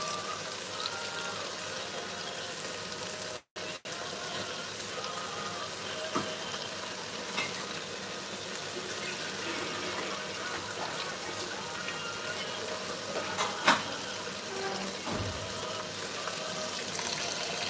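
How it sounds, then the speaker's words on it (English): Rice being washed and rubbed by hand in water with a bit of salt, a steady close wet swishing and gentle splashing throughout, with a faint clink near the end. "as I'm washing the rice"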